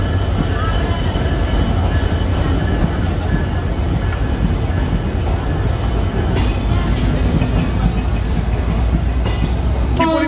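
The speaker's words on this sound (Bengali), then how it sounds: "ঢাকা অভিমুখী 792 Banalata express Joydebpur station through pass করছে" Loud, dense rumble of the Dhaka-bound 792 Banalata Express non-stop train running through Joydebpur station at speed without halting, with wheels clattering steadily on the rails and a brief metallic squeal near the end.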